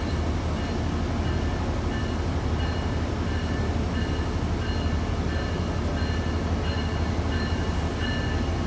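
A Metro-North commuter train rumbles along the track at a New Haven line station, a steady, loud low drone of wheels and motors with faint rhythmic clicking, continuous throughout with no pause.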